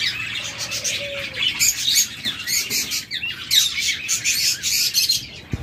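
Pet budgerigars in a cage, including a rainbow pair, chirping and twittering busily in rapid overlapping bursts, close and fairly loud with no talk.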